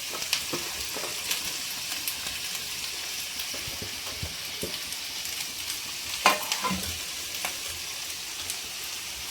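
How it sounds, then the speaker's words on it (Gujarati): Chopped cabbage frying in a pan for a Jain tandoori paneer pizza topping, a soft steady sizzle with scattered crackles and a few spatula knocks, fairly quiet and without talking. "હવે આપણે જે કોબીસ સમારીને રાખી હતી એ કોબીસ નાખી દઈશું"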